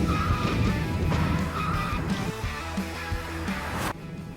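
A Tesla Model Y driven hard through fast corners on test tires, its tires squealing and skidding with road roar inside the cabin, loud and continuous before easing near the end.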